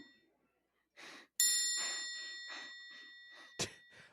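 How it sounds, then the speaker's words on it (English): A bell struck once with a sharp ring that sustains and slowly decays, heard under a voice speaking in short bursts, followed by a brief clatter near the end. "I hit the bell"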